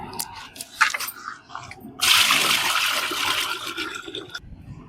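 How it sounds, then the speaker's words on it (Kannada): Water is poured into a vessel to wash rice, first with a few light splashes and then a steady close gush of running water lasting a couple of seconds before it stops. "ನೀರ್ ಹಾಕು, ಚೆನ್ನಾಗಿ ಅಕ್ಕಿ ತೊಳ್ದ್ಬಿಡೋಣ."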